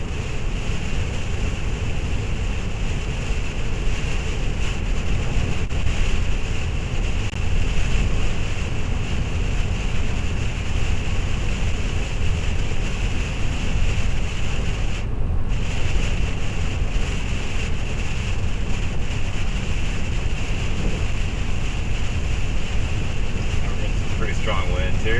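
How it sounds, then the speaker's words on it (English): Strong hurricane winds batter the microphone in a continuous loud roar and buffet, rising and falling in gusts without a break. "Strong winds here."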